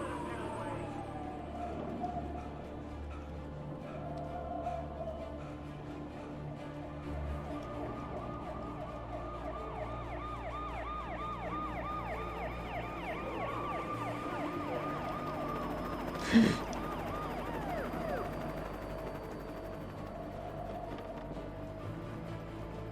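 Police sirens wail continuously in Alan Wake Remastered, their rising and falling tones layered over game sounds and a droning engine, with a brief sharp thump partway through.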